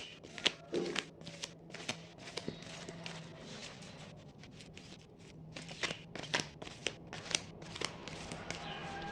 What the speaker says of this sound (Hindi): जैसे ही मैं शफल करती हूँ